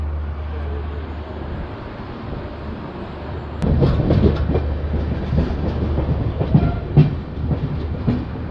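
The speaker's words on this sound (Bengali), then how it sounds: "ফাইনালি নৈহাটি জংশন ছেড়ে ট্রেন বেরিয়ে যাচ্ছে" At dawn, the Gour Express, a Malda to Sealdah train, pulls out of Naihati Junction. Its low engine rumble gives way to louder, rhythmic wheel clatter and rattling that builds from mid-clip, with no voices.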